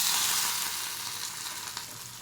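Mustard seeds and cumin sizzle in hot oil, a short, bright, continuous hiss that is strongest at first and eases slightly, heard close with no speech.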